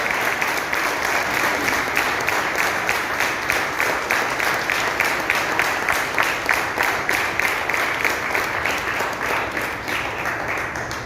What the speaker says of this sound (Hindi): उनके लिए तहे दिल से जोरदार तालियां